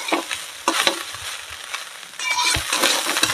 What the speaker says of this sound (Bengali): তো আমি আর কিছুক্ষণ এরকম করে নাড়াচাড়া করব